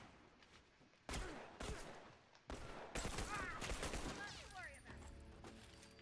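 Burst rifle gunfire in The Last of Us Remastered, with several sharp loud bursts of shots and echoing reports, mixed with talking voices.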